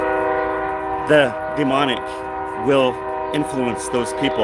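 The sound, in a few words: passing train sounding its horn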